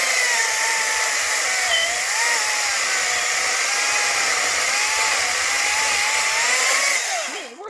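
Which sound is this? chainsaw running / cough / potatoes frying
chainsaw running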